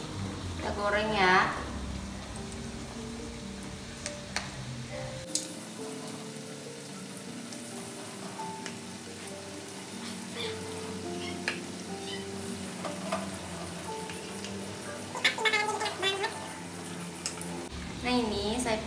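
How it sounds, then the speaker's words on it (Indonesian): Oil sizzles and crackles steadily as vegetable fritters fry close up, with occasional stirring clatter and a voice talking over it at times. "Nah, ini sudah siap digoreng ya teman-teman."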